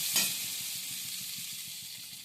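Boiled potatoes stirred into a hot pan for a prawn pitha filling: a steady, close sizzle of frying with a regular rhythm of soft spatula scrapes and taps throughout.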